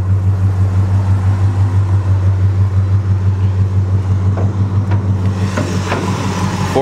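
A 1971 Oldsmobile Delta 98 with a 455 big-block V8, Edelbrock high-rise manifold and headers idles close by, a deep, steady, loping rumble with a slight pulsing beat and a few faint clicks late on.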